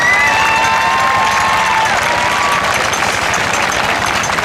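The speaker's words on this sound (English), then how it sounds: "Let's give all of them a great big round of applause." A loud crowd at a 2017 high school homecoming football game claps and cheers for the homecoming king and queen, dense applause with shouts and whistles filling the air throughout.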